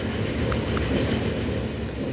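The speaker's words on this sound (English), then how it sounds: "Where is the passenger train?" A passenger train rolls along a track in the rail management game Transport Fever 2, a steady, dense rumble with faint clickety-clack, loud and continuous with no voices over it.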